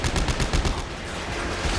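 Rapid burst of gunfire in the sci-fi horror game Dead Space, a quick run of sharp repeated shots over about a second and a half, close and fairly loud with no voices.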